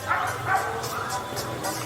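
A small dog yips and barks a few times amid outdoor noise and voices on a mountainside kiosk near Puerto Vallarta, with fog rolling in.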